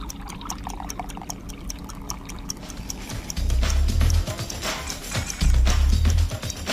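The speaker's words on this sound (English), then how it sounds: "Now you fill the top cup with water, and you start a stopwatch at the same time." Water pours into the top cup of a homemade water clock, a steady liquid splash rising in two louder bursts, with faint ticking behind.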